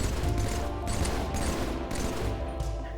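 A Battle Rifle from the Halo video game fires rapid bursts of shots over dense, loud background game sound.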